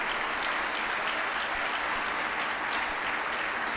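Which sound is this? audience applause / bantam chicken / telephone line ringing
audience applause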